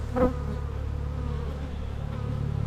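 Honey bees buzz in an opened hive, a steady low hum under a faint background drone, with one brief louder buzz close by near the start.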